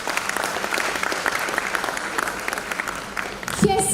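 Audience at an academic awards ceremony applauding, dense sustained clapping that tapers slightly toward the end, with cheering voices mixed in.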